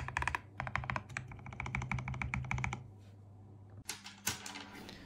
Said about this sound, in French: vous avez directement le son du clavier une fois modé